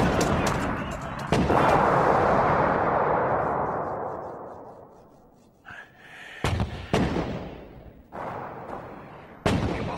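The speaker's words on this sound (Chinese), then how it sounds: "给我炸，给我拼命的炸" Bombardment explosions and artillery fire in a Chinese kung fu TV drama set around a Shaolin temple: a long roaring blast swells and slowly fades, then several sharp, heavy booms strike one after another at close range.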